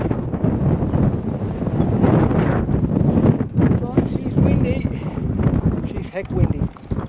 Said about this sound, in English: It's blowing a gale up on the ridge here